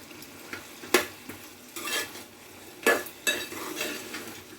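Chicken curry being stirred in a pan with a spoon, several sharp scraping strokes and clinks over a faint sizzle, close up and with no talk.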